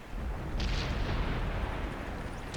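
An IS-7 heavy tank's cannon in a video game fires one deep, heavy boom that rolls into a sustained low rumble and hiss.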